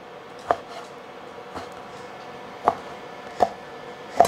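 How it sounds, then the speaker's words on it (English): A knife slices lean pork into quarter-inch slices, cutting down onto a board in sparse, distinct taps, about five knocks spaced unevenly over a quiet background. "So all I do is I slice it up again in slice, quarter inch slices or so"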